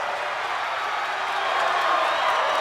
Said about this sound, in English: This crowd is in a frenzy